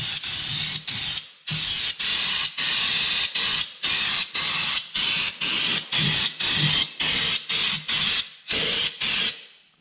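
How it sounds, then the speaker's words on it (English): Fluid Film undercoating sprays from a compressor-driven sprayer tip set around 80 PSI onto a vehicle underside, in about twenty loud, close hissing bursts of roughly half a second each, separated by brief silent gaps. "you're gonna wanna set your compressor at around 80 PSI, and then you're just gonna spray away"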